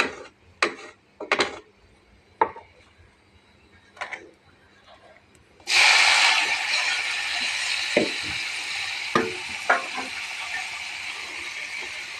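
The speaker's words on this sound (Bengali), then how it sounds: "এখন আমি ফোড়ন দিয়ে দেব।" Tempering spices hitting hot oil for a dish of gourd leaves and potato, a loud sudden sizzle that keeps hissing steadily, with a few knocks before it and some stirring clatter during it.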